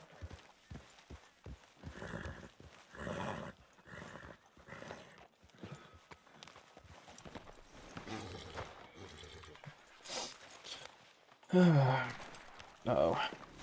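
Horse in the RedM western role-play game, with steady clip-clop hoofbeats throughout and a short snort or whinny near the end, mixed with quiet talking.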